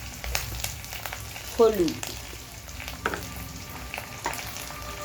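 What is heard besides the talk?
frying ground spices while sautéing for fig mash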